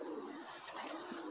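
Pigeons from the Van der Wouwer and Gaston De Kaasboer racing lines coo softly in a loft, a faint, continuous murmur of low throaty calls with no voices over it.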